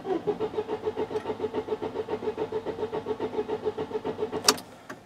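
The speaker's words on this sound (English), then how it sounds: "Let me crank it over for you." A 2004 Volkswagen Passat 1.8 turbo engine cranking over with an extended crank, the starter churning in a fast, even rhythm for several seconds before a brief sharp noise at the end, close and loud.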